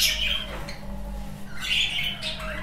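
Budgerigars squawk and chirp in a breeding aviary, a steady busy chorus of many birds over a constant low hum, with bright calls rising at the start and again near the end.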